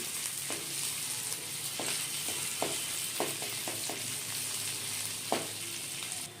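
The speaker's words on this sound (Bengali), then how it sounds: "আদাটাকেও কয়েক সেকেন্ডের জন্য নেড়েচেড়ে নিয়ে ভেজে নিচ্ছি।" Ginger paste sizzles steadily in hot oil in a pan while a utensil stirs it, giving soft scraping taps at irregular intervals over the continuous frying hiss, quiet and close.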